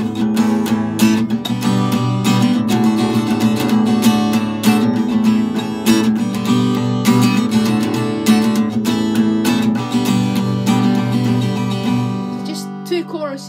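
Steady strummed guitar chords ring out in a quick, even up-and-down rhythm, bright and continuous, with no voice over them.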